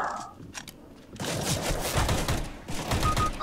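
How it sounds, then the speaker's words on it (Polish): Gunfire rips through wooden cover in a CS:GO match, a rapid burst of close, loud shots after a short quiet start, continuing in a steady volley to the end. "On strzela przez to drewno."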